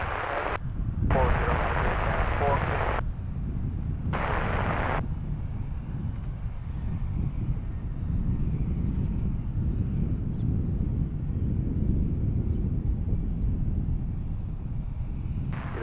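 A plane takes off from runway 27 at Cincinnati's CVG cargo hub, a steady broad jet roar rumbling at a distance throughout, interrupted by short bursts of radio chatter.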